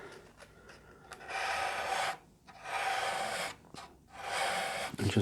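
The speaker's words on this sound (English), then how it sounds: "I'm going to take a sanding pad. This one I believe is a 240" A 240-grit sanding pad rubbed by hand around the chamfer of a scratch-built guitar body, three steady close rasping strokes separated by short pauses.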